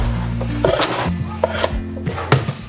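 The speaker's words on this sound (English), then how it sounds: "I am just chopping a whole bunch of this and putting it in the freezer." A knife chopping through rhubarb stalks on a cutting board, several sharp cuts spaced out over a low steady background drone, close and fairly loud.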